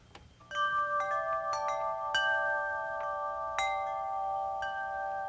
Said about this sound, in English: No, that was wind chimes.